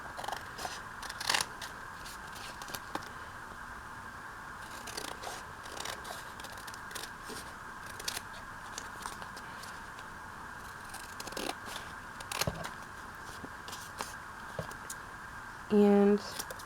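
Scissors cut out an envelope in a papercraft project, making repeated small, close snips and crisp paper rustles at an irregular pace, with soft handling noises between the cuts.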